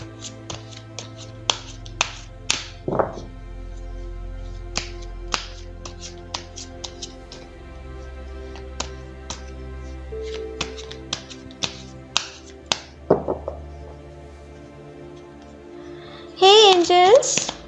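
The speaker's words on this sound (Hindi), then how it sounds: "तो चलिए पहले ज़रा कार्ड्स को शफल कर लेते हैं।" Tarot cards are shuffled by hand, giving repeated crisp taps and riffling snaps at an uneven rhythm. A soft hum sits underneath, and near the end comes a brief, louder burst of something else.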